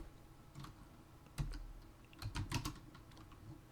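Keys on a computer keyboard are tapped in short scattered clusters, a few isolated clicks then a quick burst, quiet and close with no talking.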